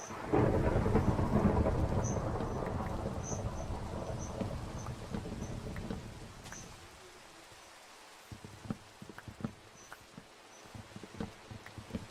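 Thunder rumbles in the Minecraft video game, a loud rolling boom that fades over several seconds into quieter rain, with scattered small clicks and taps afterward.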